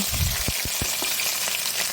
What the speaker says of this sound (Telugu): ఇప్పుడు పోపు వేసుకొని తాలింపు పెట్టుకోవడమే.